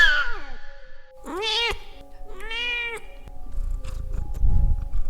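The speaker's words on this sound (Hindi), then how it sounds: "बिल्ली के हलक से अचानक अजीब अजीब आवाजें निकलने लगी" A cat lets out strange drawn-out yowls and meows, several rising and falling cries in a quiet setting, followed by low rumbling noise.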